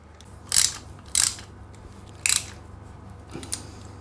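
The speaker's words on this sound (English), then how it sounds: "once all 6 bolts are in, you can go ahead and tighten them up." A ratchet tightening bolts on a bash plate of a 2021 KTM 390, three loud close clicking bursts followed by a fainter fourth, spaced about a second apart with no talk.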